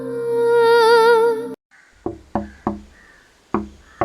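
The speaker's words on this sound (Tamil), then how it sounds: "நேத்ரன், கதவை தர நேத்ரன்" A sustained sung or musical tone cuts off, then knocks on a door follow close and sharp in an irregular sequence of about five raps.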